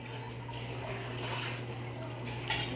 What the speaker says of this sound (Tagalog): dadagdagan pa ng aking nanay ng konting tubig para meron siyang konting sauce